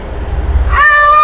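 A man imitates a cat, giving one drawn-out, rising meow with his voice after a stretch of low rumbling background.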